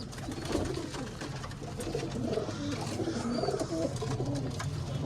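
Pigeons coo continuously at close range, several birds overlapping in a soft, throaty, rolling murmur with a faint flutter now and then.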